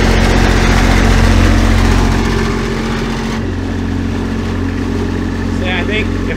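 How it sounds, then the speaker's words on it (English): Portable generator on a flatbed truck running with a steady low engine drone and rattle, loud at first and then slightly quieter and muffled after about three seconds, with faint high chirps near the end. "Now I can start the generator from out here. See if it'll start. So you hear it rattling?"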